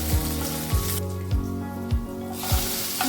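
Dried red chillies and curry leaves stirred in hot oil while making sadya rasam, a steady bright sizzle with a regular series of soft stirring knocks, near and alone.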